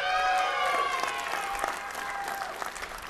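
An audience at the SOE Live 2014 Landmark gaming keynote applauds, a dense burst of clapping and cheering that gradually thins out over a few seconds.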